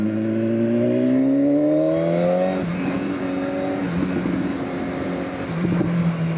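Close, loud engine of a 2016 BMW S1000RR Gen 3 motorcycle climbing in pitch under acceleration, then dropping with a gear change and settling into a rougher steady drone.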